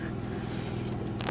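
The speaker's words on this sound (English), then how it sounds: "sorry for the generator noise." A generator runs as a steady, dense, loud drone with a low rumble throughout, continuous and close, with no clear talk over it.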